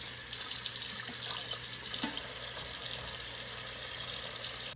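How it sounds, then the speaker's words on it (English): Water from a tap splashes steadily over saltwater mullet being rinsed in a sink, a continuous close hiss with light spattering and small handling bumps, no voices. "Make sure you rinse your fish"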